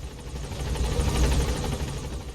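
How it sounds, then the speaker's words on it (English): A helicopter in Metal Gear Solid V: The Phantom Pain, its rotor thumping in a fast steady beat over a heavy low engine drone, close and fairly loud, with no speech. "you'll be chilling in your chopper, which can also take you to your base, out in the middle of the sea."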